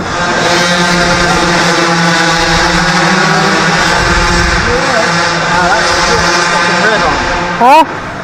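A 50cc big-bore M4 minimoto engine runs steadily and loudly throughout while being run in, its pitch wavering slightly, with a brief rising whine near the end.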